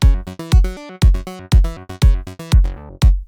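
A u-he Repro 1 synth preset played dry without effects: a punchy, buzzy sequenced bass-and-lead pattern with sharp plucked attacks, stepping notes in a steady acid-style rhythm, loud and close with no other sounds.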